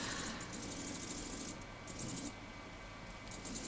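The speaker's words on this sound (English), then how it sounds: "fold it open, pin it, and we're going to sew it all the way down" A sewing machine runs steadily close by, stitching a 1 cm seam on a flower girl dress lining, its fast, even needle rhythm pausing briefly before picking up again.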